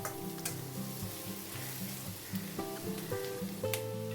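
Cumin, coriander, turmeric and Kashmiri chilli powders sizzle steadily in a hot pan with oil while a utensil scrapes and stirs, with a few sharper clinks of metal on the pan and no talking.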